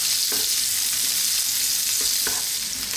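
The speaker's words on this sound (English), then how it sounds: "Let's just throw this around in the pan just by themselves for like 3 minutes or so." Sliced onions fry alone in a pan over medium-high heat, giving a continuous loud close sizzle with a couple of soft stirring scrapes.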